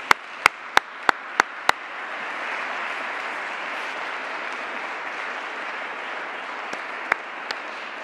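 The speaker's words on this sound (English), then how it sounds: "let's have a round of applause for Eric" A few sharp, loud individual claps open over a broad wash of audience applause at a climate-event gathering, the applause holding steady with a couple of louder claps near the end.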